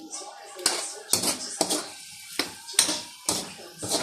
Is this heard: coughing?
no